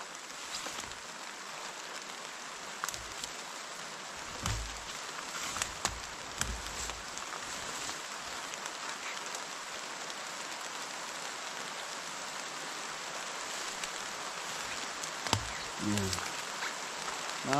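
Steady rain falls outdoors in a rural Filipino home setting, a continuous soft hiss of drops on surfaces with a few brief knocks and rustles, fairly quiet throughout.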